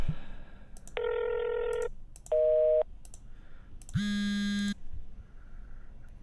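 Electronic cell phone beeps and dial-style tones sound in short separate bursts, some pitched higher and some lower, with clicks between them in a sparse, sampled sequence.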